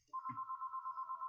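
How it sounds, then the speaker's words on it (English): A phone ringing in a rapid, even electronic trill, close and clear, a single continuous ring burst preceded by a brief low mutter. "Oop, phone call."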